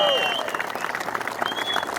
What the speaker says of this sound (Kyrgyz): Кол чаап койсок бул